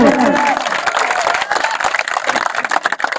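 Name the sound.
crowd applauding the team captain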